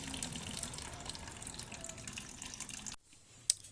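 Water pours steadily into a bowl for cats, a soft continuous trickle up close that stops abruptly near the end, followed by a single faint click.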